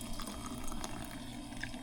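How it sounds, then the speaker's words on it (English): Espresso poured into an espumita, the whipped sugar foam for Cuban coffee, a soft continuous liquid trickle, quiet and close with no talk. "Now you take the rest of your espresso and pour it into the Espumita."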